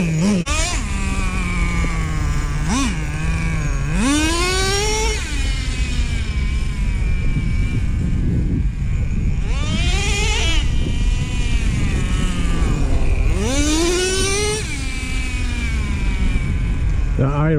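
The 3.3 nitro engine of a Traxxas Slayer Pro 4x4 RC truck buzzes loudly close by, its idle hanging high between several rising revs that whine upward and fall back, with a continuous rough drone underneath.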